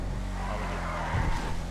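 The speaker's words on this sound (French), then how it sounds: "elle drift trop la voiture" Car drifting in GTA roleplay, a continuous engine drone with tires squealing and sliding, swelling louder toward the middle, with no talk.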